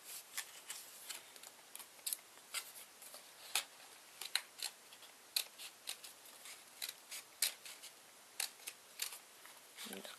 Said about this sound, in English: And just cut it off little by little,